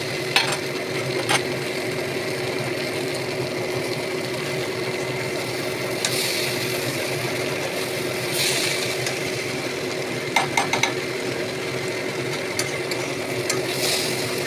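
Khichdi made with gobindobhog rice fries in a pan, giving a continuous low sizzle and faint stirring scrapes under a steady background hum, with occasional brief clicks and no speech.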